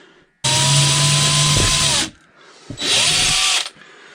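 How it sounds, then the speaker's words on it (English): A power drill bores a hole through a gold metal fishing spoon in two loud, sustained high-pitched whining bursts with a short pause between them, close and alone. "that took me probably like a minute to drill through that"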